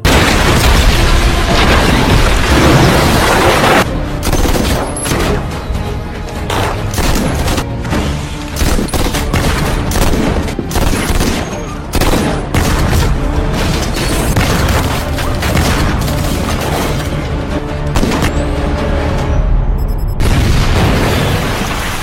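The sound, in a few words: gunfight with gunfire in a film scene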